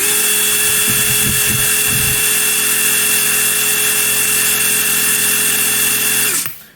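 A DeWalt DCF922 impact wrench runs in precision screw mode with a steady high whine, a few brief rattling bursts early on, then it stops abruptly near the end, with no speech.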